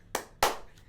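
Two quick, close hand claps a moment apart, sharp and fairly quiet, with a faint third tap trailing after.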